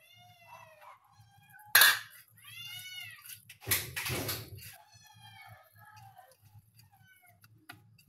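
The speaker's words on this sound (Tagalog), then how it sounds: "Nangaon akong mga miyaw-miyaw guys." Several pet cats meow repeatedly and close by while they eat, their cries rising and falling in short bursts, with a couple of sharp loud clatters cutting in and a low hum underneath.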